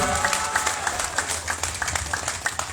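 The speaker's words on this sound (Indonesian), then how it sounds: "Kita beri tepuk tangan yang meriah dulu untuk Bapak Christopher Fry" Crowd at a political campaign rally giving lively applause, a dense wash of clapping with distinct claps popping out near and far.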